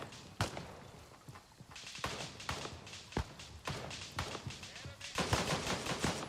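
Scattered gunshots crack near and far in Gray Zone Warfare, irregular single reports and short bursts mixed with thuds and footsteps, with a voice talking over them.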